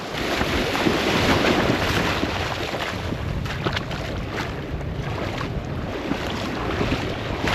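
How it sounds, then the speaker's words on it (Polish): Waves break and wash onto a Baltic Sea beach in fairly big surf, a continuous loud roar of surf mixed with buffeting wind noise on the microphone, with no voices. "Jednak fale są spore, woda wyższa"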